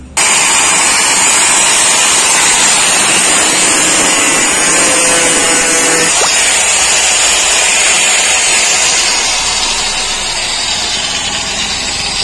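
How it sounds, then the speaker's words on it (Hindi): A cutter machine grinding through a damaged screw on a washing machine, a loud continuous high-pitched whine and buzz that holds steady for the full length, close up with no talk. "तो हम इसे कटर मशीन से काट के खोलेंगे"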